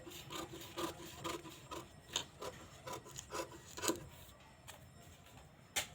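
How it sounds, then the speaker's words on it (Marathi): Scissors cut the outer shape of a fabric sleeve, with a series of close, quiet snips and rasping crunches at an uneven pace, each cut separated by short pauses. "सुरुवातीला दोन इंचापर्यंत कट करायचं आणि बाहेरचा आकार कट करून घ्यायचा आहे"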